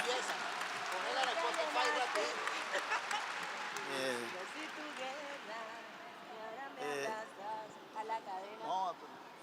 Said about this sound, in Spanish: un aplauso para el maestro Yuri Buenaventura